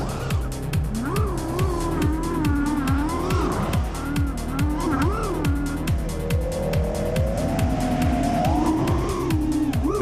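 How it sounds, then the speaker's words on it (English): Racing quadcopter drone motors in an unhealthy state, a constant loud buzzing whine with wavering pitch and rapid repeating clicks, mixed with crowd and commentary voices throughout. "Quad doesn't sound too healthy"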